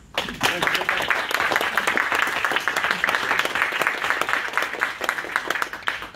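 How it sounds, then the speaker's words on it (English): At an animal welfare textbook launch, a small crowd applauds itself, the moderately loud, uneven clapping continuing for several seconds with a few murmured voices mixed in. "also a big round of applause for all of you too."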